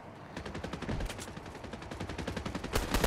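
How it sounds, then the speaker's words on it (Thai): Rapid bursts of gunfire in the video game Fortnite, as players shoot at a boss: a dense, fairly quiet string of sharp cracks in quick succession, with heavier shots toward the end. "มันยิงบอสยิงบอส"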